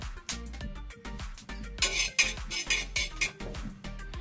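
A spoon clinks and scrapes against a hot tava griddle while fenugreek and whole coriander seeds are stirred, with rapid, irregular metallic taps and rattling seeds, close and clear.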